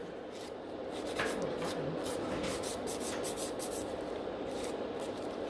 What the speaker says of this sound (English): I'm just filing the excess of the product